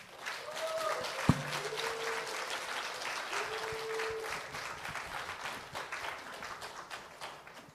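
A church audience applauds steadily, a dense wash of many hands clapping at once, with a single sharp thud near the start and the applause continuing throughout.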